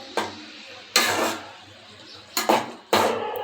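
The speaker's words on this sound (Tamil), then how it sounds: "இப்போ மசாலா போட்டு நல்லா கிண்டிக்கிறேன்." Masala being stirred into tomato thokku in a pan, a few separate scraping strokes with spoon knocks against the pan, close, over a quiet simmer with no talk.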